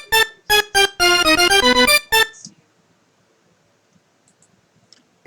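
A short synthesized string phrase with stacked octave tones plays in bright detached chords, then fades to near silence.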